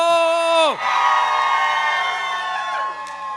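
At a wedding reception, guests of one family scream and cheer loudly together in a sustained crowd roar, after a sharp swooping tone cuts off at the start.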